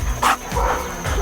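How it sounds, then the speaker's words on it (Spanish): A protection-trained dog barks during an attack drill, several sharp, loud barks in quick succession close by, with whimpery yips between them. "El perro ataca."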